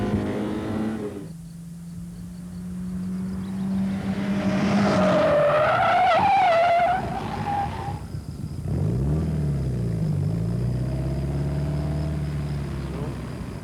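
A race car at the Mas du Clos circuit brakes hard and corners, its engine rising and revving loudly with tire squeal. A steady whine sounds before it, and the car settles afterward.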